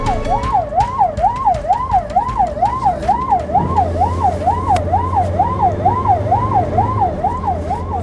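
A donated ambulance bound for Ukraine sounds its wailing siren in a steady, fast up-and-down cycle, loud and continuous, with a low vehicle engine rumble running underneath.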